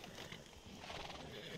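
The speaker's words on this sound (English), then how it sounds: "whose horse is that? And why is it just running free like that?" A horse running loose in the video game Red Dead Redemption 2, with dense continuous hoofbeats and a whinny mixed into a busy, steady game soundscape.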